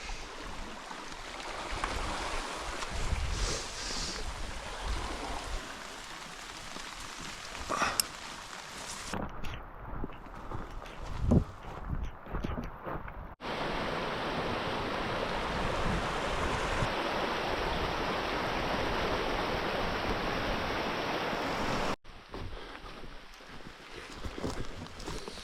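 Heavy rain and rushing water roar continuously, loud and broadband, with wind gusting over the steady flood noise.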